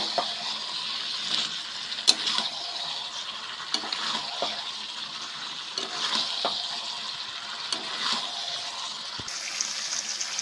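Jackfruit and potato pieces fry in a pan for a prawn curry, with a steady close sizzle and a continuous wet hiss broken by frequent small scrapes and taps of a spoon stirring.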